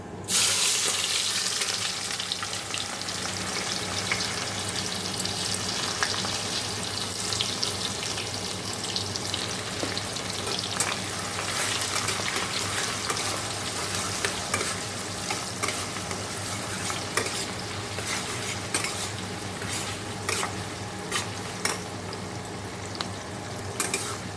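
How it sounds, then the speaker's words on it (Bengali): Onion frying in oil with whole garam masala and a dried chili, a continuous crackling sizzle with scattered utensil clinks and stirring over a long stretch, no talking. "তারপর ফোড়ন দিয়ে দিয়েছি গোটা গরম মশলা একটা শুকনো লঙ্কা পেঁয়াজটা দিয়ে দেবো"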